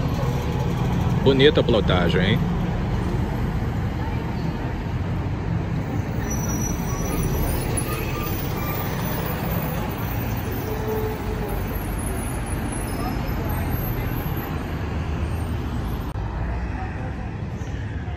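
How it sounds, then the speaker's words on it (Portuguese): A Marco Polo Torino city bus pulling out of the urban terminal in Pouso Alegre, Minas Gerais, its engine rumbling steadily amid roadway noise while someone talks nearby. "Aí o carro já vai iniciando o seu itinerário, vamos acompanhando a saída dele por aqui."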